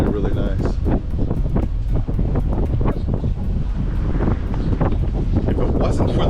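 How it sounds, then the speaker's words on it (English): Strong wind gusts buffet the microphone in a constant roaring rumble on a bike trail, with a voice talking faintly beneath it. "But the wind is gusting pretty strong."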